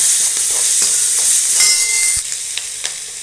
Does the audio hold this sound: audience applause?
no